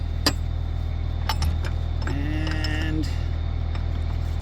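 A metal wrench clinks and scrapes as a 36 mm size is fitted onto a stuck fan clutch on a Ford truck, with a few sharp taps and a brief ringing scrape over steady background hum.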